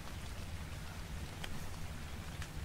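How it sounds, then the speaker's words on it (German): Rain falls steadily in the survival video game Ark, a faint, even hiss of drops with a couple of brief sharper splashes, no voices. "Wann hört denn der Regen auf?"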